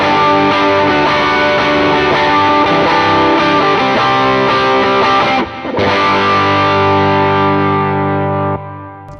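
A heavily overdriven electric guitar through a tube-modded Ibanez TS808 overdrive pedal plays thick, sustained chords with a saturated, gritty tone, loud and continuous before ringing out at the end.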